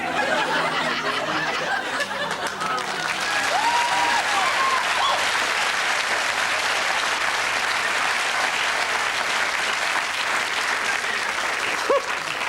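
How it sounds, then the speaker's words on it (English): A television studio audience claps steadily for a comedy show, a dense, even wall of applause lasting several seconds with scattered chuckles and snickers mixed in. "Why are you applauding?"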